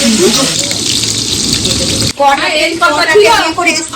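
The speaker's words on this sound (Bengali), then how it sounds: "মাছ ভাজতে শুরু করে" Fish frying in a pan during home cooking for a rice ceremony gives off a steady, close sizzling hiss for about two seconds. Voices follow over the fading sizzle.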